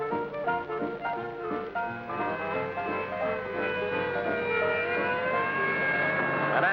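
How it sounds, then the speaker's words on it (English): An ambulance siren wails in a 1950s radio drama, a loud wavering tone that rises and falls before settling into a sustained high pitch, with no voices over it. "An ambulance heading for General Hospital and not a minute to lose."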